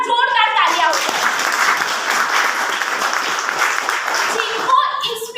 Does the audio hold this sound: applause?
yes